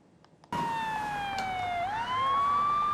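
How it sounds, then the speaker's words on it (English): A police car siren wails loud and close during a vaccine delivery escort, starting abruptly and sweeping in a slow falling then rising tone. "As police cars clear the roads,"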